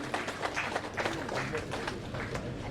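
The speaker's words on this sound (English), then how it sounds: "A big round of applause." A memorial lecture audience claps in a soft, continuous patter of applause, heard from a distance at low volume.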